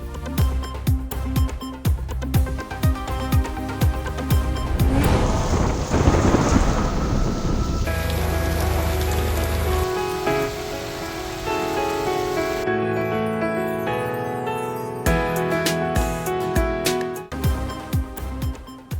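Rain falling with rumbling thunder, set under a news bulletin's weather segment: a steady wash of rain with rolling thunder swells, mixed beneath a loud, continuous musical bed, with no talking.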